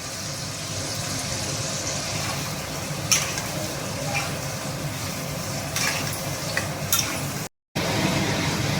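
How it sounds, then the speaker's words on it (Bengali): Capsicum pieces being lightly fried in a pan make a steady, close sizzling hiss with a few stirring clinks, broken by a brief silent gap. "ক্যাপসিকামগুলো হালকা করে একটু ভেজে নিয়েছি, ভেজে তুলে নিচ্ছি।"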